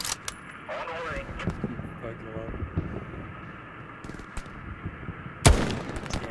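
A loud, sharp rifle crack from a sniper in a Hell Let Loose urban battle near Carentan rings out after scattered distant gunfire and vehicle rumble, with a voice speaking briefly beforehand.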